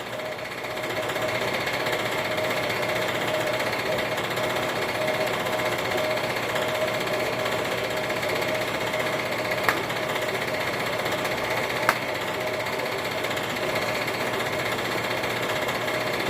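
A machine grinds steadily through aluminum lubricated with WD-40, a continuous buzzing drone with a couple of sharp clicks, close and fairly loud throughout.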